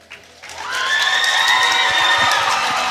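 A basketball game crowd cheers a homecoming attendant, with loud, sustained cheering and shouting that swells within the first second and holds steady to the end.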